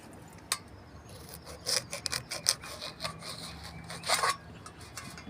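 A ripe dragon fruit picked from the plant is cut open, giving soft scraping and rubbing sounds in short, faint, irregular strokes close by, with no voices.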